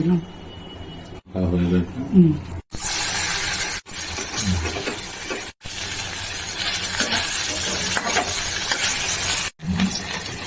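Jackfruit kebabs coated in nigella, mustard, salt, sugar and oil fry in hot oil with a loud, steady crackling sizzle, broken by brief pauses, while a person talks over it.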